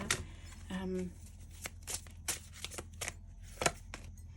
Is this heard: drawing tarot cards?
yes